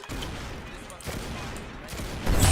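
Rapid bursts of gunfire in the Roblox shooter Arsenal during a one-on-one match, shots cracking in quick succession throughout, with a louder blast at the end and game sounds filling the background.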